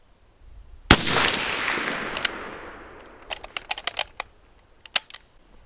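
A Mk III* SMLE rifle fires, a sharp loud crack followed by a long fading echo, then a quick run of lighter mechanical clicks and knocks from the bolt and handling.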